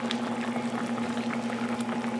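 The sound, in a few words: Salisbury steak gravy simmering in pan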